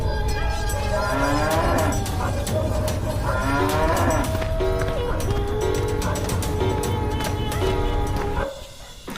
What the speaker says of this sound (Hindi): गौरी दर्द में फिर से रंभाते हुए